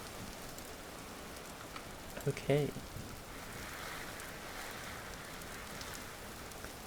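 Rain falls steadily on a river in the video game Vintage Story, a soft, even hiss of drops throughout, with a short spoken word near the middle.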